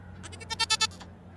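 A goat at a racetrack animal race lets out a rapid, quavering bleat of four or five pulses, close and clear over low background noise.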